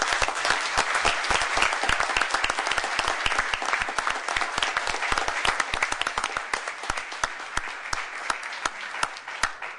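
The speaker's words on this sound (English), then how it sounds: "please join me in giving Senator Montford a round of applause." An audience at a commission meeting gives a round of applause, steady crisp clapping from many hands, fairly close and continuous for about ten seconds.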